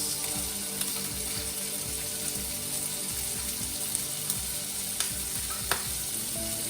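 Bacon and onions sizzle steadily in a frying pan, a close, continuous crackle with occasional sharper pops and faint scrapes of stirring, no voices.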